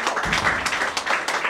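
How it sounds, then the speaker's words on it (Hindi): Congregation clapping at the grand opening of a prayer hall in Indore, a dense burst of hand claps filling the hall in uneven waves, loud and close. "प्रभु का धन्यवाद करते हैं हम तालियां बजाकर और उत्साह के साथ।"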